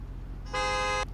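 Car horn in the Car Simulator 2 video game: a single steady honk lasting about half a second, clear and loud over a low engine idle rumble.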